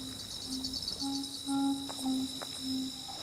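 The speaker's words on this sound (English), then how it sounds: "We've got Carolina ground crickets, bush katydids, tree crickets, and a whole distinguished ensemble" Carolina ground crickets, bush katydids and tree crickets chirp close by in a steady insect chorus: a high continuous trill over repeated short pulsed chirps at a regular rhythm, with no voices.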